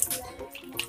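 Cut potato pieces being washed by hand in water for crispy French fries, brief splashing and sloshing with light watery trickles, close and moderately quiet, no talking.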